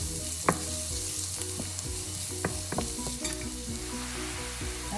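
Garlic and ginger sauté in a hot pan, a steady moderate sizzle broken by scattered sharp clicks and scrapes of a utensil stirring, with no one speaking.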